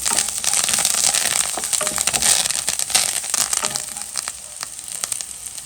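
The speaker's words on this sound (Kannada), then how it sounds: "ಪಾಡ್ದು ಒಂಚೂರು ಫ್ರೈ ಮಾಡ್ತೀನಿ" Coriander leaves and seasoning fry in a pan, giving a continuous crackling, sizzling hiss with scattered sharp pops. It stays fairly loud throughout and no one talks.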